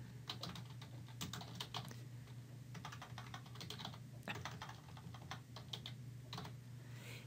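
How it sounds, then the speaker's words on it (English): Steady typing on a computer keyboard while entering an email subject, a quiet run of close key clicks in short bursts with brief pauses and no speech. "Then you'll type in your subject."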